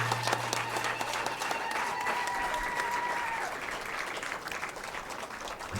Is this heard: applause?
yes